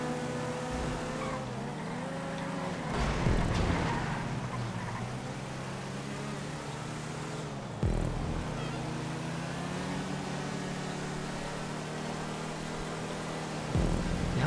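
An Armoured Boxville van racing in GTA 5, its steady engine drone rising and falling in pitch through gear changes, with a few thumps and bumps along the way and no talking.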